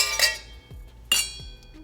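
Wine glasses of Brunello di Montalcino clink together in a toast, two bright ringing taps about a second apart, close and clear with no talk over them.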